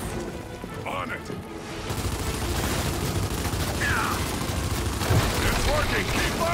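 Rapid gunfire rattles continuously in Gears 5 as shots are aimed at tree roots, a dense crackling barrage under occasional short bits of character speech.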